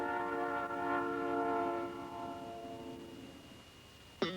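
A Southern Pacific railroad train sounds its horn in a sustained, multi-tone blast that gradually fades as it passes, ending with a brief sharp sound.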